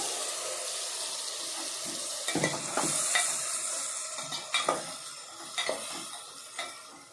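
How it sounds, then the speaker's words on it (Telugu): Chicken frying in a pan with tomato and onion, a steady sizzle with clattering stirs and scrapes of a spoon against the pan, close and moderately loud. "చికెన్ వేస్తున్నానండి"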